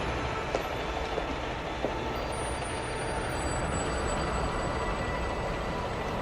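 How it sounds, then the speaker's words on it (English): Train locomotive rolling away, a steady broadband rumble and rushing noise with faint high whining tones and occasional clicks, moderately distant and continuous without speech. "the Doppler shift in the sound of a receding locomotive"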